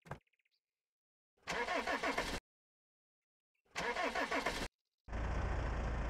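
A car engine in the game Ocean is Home cranks twice in short bursts with silences between, then catches on the third try and settles into a loud, steady run.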